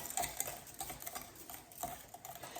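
Boxed cake batter mixed by hand in a bowl, faint soft scraping and clinking of a utensil with a few sharper ticks, quiet and uneven, without any talking.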